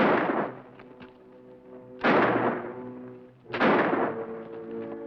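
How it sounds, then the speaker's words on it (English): Three loud gunshots ring out about every one and a half seconds during a Western shootout, each sharp crack trailing into a long echoing decay, with no talk over them. "He'll think we're shooting at him."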